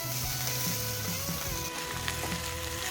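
Cooked kolam rice with soybeans, red chilli powder and coriander is stir-fried in a pan, giving a loud, continuous close-up sizzle with occasional stirring scrapes, no voices.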